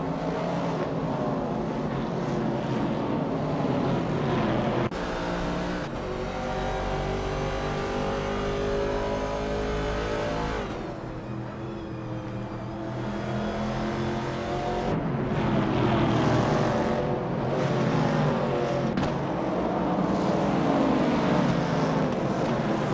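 Race cars in a racing video game roar past continuously, engines revving and shifting pitch as they accelerate and pass one another, loud and close with no talk.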